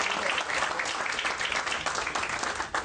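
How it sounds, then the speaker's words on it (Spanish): An audience at a formal lecture gives a dense burst of clapping that stays steady and fairly loud for a few seconds. "Vamos a darle un aplauso fuerte a la..."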